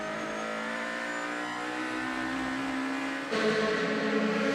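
DTM touring race cars lapping Hockenheim during qualifying for the 2018 season finale, their engines droning loud and steady in layered harmonic tones, swelling to a sharper, louder roar near the end as a car passes closer.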